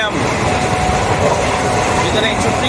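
Passenger train running on the Trichy–Tambaram mainline as it nears Budalur station, a loud, continuous rumble and rattle of carriages from on board, heard alone throughout.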